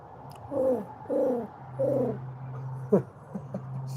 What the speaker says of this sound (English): I can hear the pigeons on top of the house.